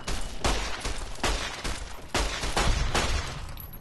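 Gunfire rings out in a Fallout: New Vegas firefight, about eight loud, close shots in a fairly steady rhythm with no voices over them.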